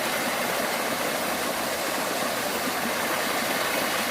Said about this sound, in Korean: 아름다운 물소리